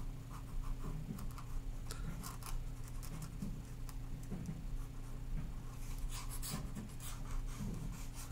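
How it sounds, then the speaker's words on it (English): Pencil scribbling across paper in loose looping strokes like pretend cursive, a steady close scratching and rubbing that runs continuously with small bursts of faster marks, over a low constant hum. "I'm drawing as if I'm pretending to be my parents doing cursive writing"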